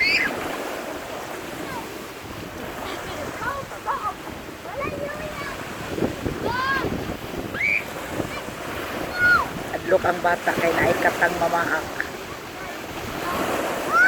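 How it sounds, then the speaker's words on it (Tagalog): Big ocean waves break and wash up on a beach in a steady roar with gusts of wind noise, while people talk and call out over the surf. "Dagko kayong balod o."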